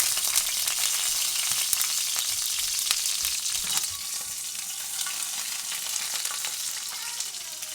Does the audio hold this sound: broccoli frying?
yes